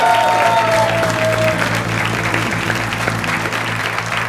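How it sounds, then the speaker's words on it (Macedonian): A studio audience applauds on a television talk show, sustained dense clapping throughout at a steady level with music faintly underneath. "Аплауз за Пеперминт!"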